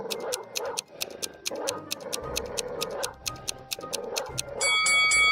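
An angry, sharp-toothed dog growls and snarls in repeated rough bursts over a steady ticking, clock-like beat, with a louder sustained tone at the end.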